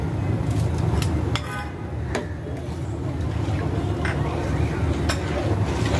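A spoon stirs milk and rice flour in a pot for a double-layer payesh dessert, scraping and clinking on the metal in scattered light taps over a steady cooking rumble, with a voice talking throughout.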